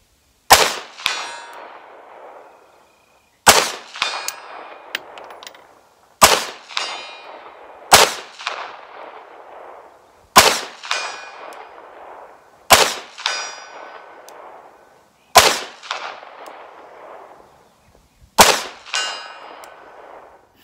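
Eight evenly spaced 9mm shots from a Ruger American Competition pistol, each followed by a ringing steel-target clang that decays over about two seconds, at an outdoor range with no talk.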